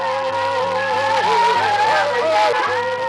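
A Native American dance performance in the Pacific Northwest gives a loud, continuous stream of sustained tonal voices with wavering pitch, steady and unbroken throughout.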